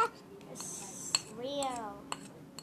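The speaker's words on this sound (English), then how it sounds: "Wait, let's just stir it until it goes really good." A spoon clinks against a bowl while stirring homemade ice cream mixture, with a few sharp taps among a voice talking over it, close and fairly quiet.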